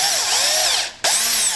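A power drill whines steadily at high speed while taking out the coupling hub cover on a carbon fiber tube build, dips briefly, then spins back up, loud and close.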